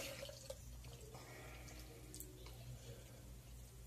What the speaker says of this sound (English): So, I suck at pouring, but I'm going to do the best I can.